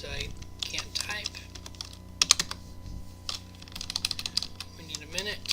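Irregular clicks of typing on a computer keyboard, close and fairly quiet, in short bursts with pauses while someone speaks in the background.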